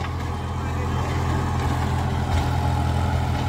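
A three-cylinder 40 hp 405 tractor pulls a 7-foot rotavator, its engine holding a loud, steady low rumble close by for the whole stretch with no letup.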